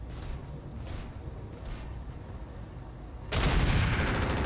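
Heavy rifle fire in the mech strategy game RogueTech, a dense rumbling barrage that suddenly swells into a louder, broader blast of shots near the end, with no talking.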